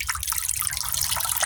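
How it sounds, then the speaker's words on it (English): Engine oil drains from a Chevrolet Tahoe into a catch pan as a steady close trickle with fine dripping and splashing, continuous and moderately loud, with no voices. "We're going to let that drain out a little bit."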